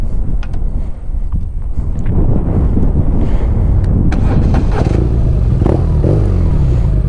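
A BMW R nineT motorcycle engine starts and settles into a loud, rough idle, heard close with heavy wind buffeting on the microphone.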